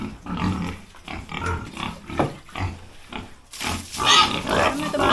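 Pigs being raised for fattening on a farm, squealing and grunting in a busy, overlapping chorus that swells louder toward the end, heard close up with no talk.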